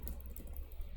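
A key on a computer keyboard is pressed while entering a password in a ticket-booking app: a brief, quiet keystroke click against faint room noise.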